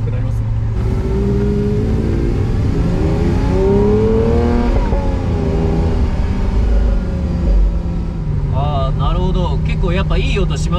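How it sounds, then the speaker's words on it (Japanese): A Lamborghini Sian Roadster's engine revving and rising in pitch, heard from inside the car, with a steady loud drone and swelling pulls while people talk over it. "特にサーキットなんかで高回転に回していただけると、ランボルギーニの今までの一番いい音が鳴る"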